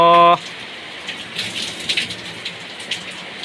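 Rain falling on a car, a steady soft patter with scattered louder drops striking the body, following a brief tonal hum at the very start.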